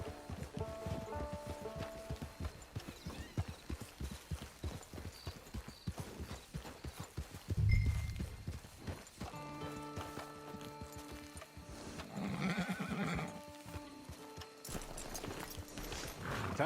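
Hooves clop in a steady walking rhythm as a horse is led toward a camp, heard fairly quietly with a few louder thumps and shuffles along the way.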